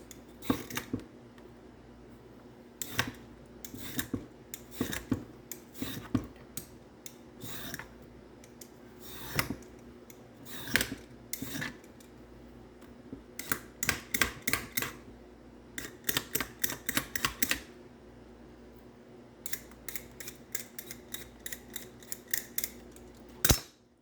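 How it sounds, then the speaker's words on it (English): Food skin is peeled off by hand, giving sharp, crisp snaps and tearing clicks in irregular clusters, close and fairly quiet, with no voices. "Peel the skin off."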